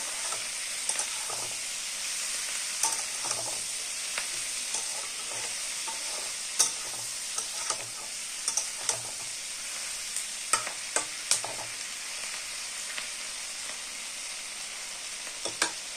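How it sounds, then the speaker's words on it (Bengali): Chilli paneer frying in a pan, a continuous close hiss of sizzling oil broken by frequent stirring clinks and scrapes, no talking. "বয়েল তো ঠিক না, এটা ফ্রাই হচ্ছে।"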